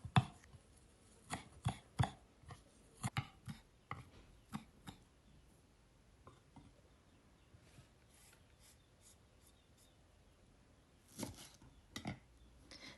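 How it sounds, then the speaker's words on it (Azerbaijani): Irregular knife chops through fresh mint on a board, bursts of sharp taps with pauses between, fairly close and alone. "Bir dəstə həyətdən yığdığım nanəni də doğrayıram."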